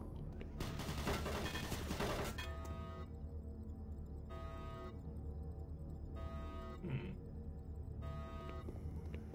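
Automated turret guns in the game Doom 3 loose a dense, rapid burst of fire early on, followed by quieter mechanical tones and hum over a steady game ambience.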